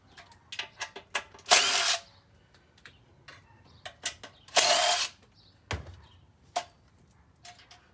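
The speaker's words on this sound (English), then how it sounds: "I'm going to remove the 4 blower housing bolts." Close, sharp ratcheting bursts and clicks from a tool removing the blower housing bolts on a Predator 212cc engine, quick runs of ticks broken by two longer whirring spins, then scattered single clicks.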